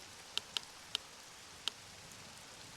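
Rain in the video game Access Denied, a soft steady hiss with a few sharp isolated drip ticks spaced irregularly, faint and ambient.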